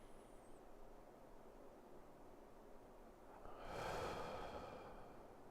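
One soft breath exhaled through the mouth during a relaxation exercise, a brief airy whoosh rising out of faint background hiss, close and quiet with no talking.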